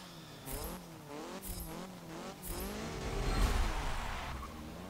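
A 1986 Dodge Shelby Omni GLHS lapping a Grand Prix circuit in Forza Motorsport 7, its engine revving up and dropping through repeated gear changes, then building to a louder surge, with no talking.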